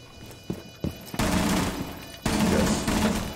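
Rapid bursts of MP7 submachine gun fire in a first-person shooter game, a couple of sharp single shots followed by two sustained loud automatic volleys close by.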